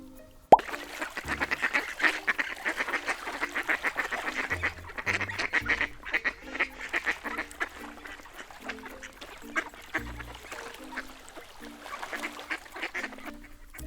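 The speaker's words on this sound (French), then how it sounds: "le dernier animal de basse-cour est le canard" Ducks quack in a run of loud nasal calls, close up, with several birds overlapping in an uneven rhythm.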